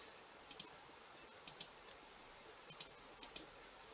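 Four quick pairs of light, sharp clicks from calculator keys being pressed to enter a square root of 85, evenly spaced and close in a quiet room.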